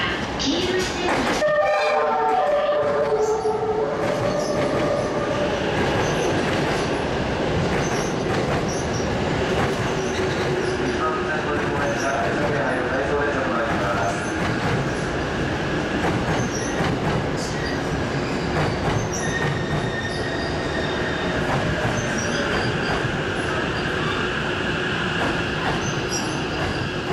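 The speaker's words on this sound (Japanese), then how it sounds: "まもなく一番線に当駅止まりの列車が参ります。" A JR East E353 series Super Azusa limited express train rumbles steadily into Tokyo Station with rolling wheel noise and metallic squeals, a Japanese announcement voice carrying over the platform din.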